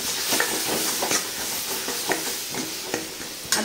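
Mutton pieces sizzling and frying in a pan with curry masala while being stirred, a steady crackling hiss broken by repeated scraping strokes of the spoon, close and moderately loud.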